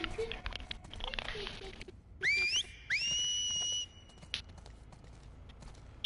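Two rising whistle calls, the second held long and steady, sounded to summon Lev in The Last of Us Part II, clear over quiet outdoor ambience with faint earlier voices.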